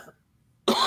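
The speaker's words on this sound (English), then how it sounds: "I'm still fighting this damn cough" A single sharp, close cough bursting out abruptly after a moment of near silence, harsh and raspy from a lingering illness.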